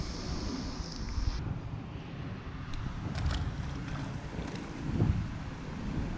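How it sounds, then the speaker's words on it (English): Steady outdoor wind buffets the microphone at a lake while fly fishing for bluegills, a constant low rumble with gusts swelling and fading and no voices. "The wind's really picking up."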